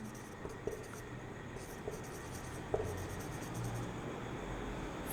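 Pen scratching quietly on paper during a Class 9 maths lesson working a Heron's formula triangle-area problem, faint and steady with a few soft taps, no talking over it.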